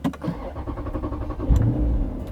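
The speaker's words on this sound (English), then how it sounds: "My car like just didn't start." A car engine cranks with a few quick, sputtering turns but never catches, leaving a low hum behind, close by.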